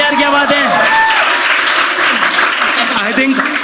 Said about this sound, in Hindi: बट तीनों लौंडों के लिए ताली बजाएंगे यार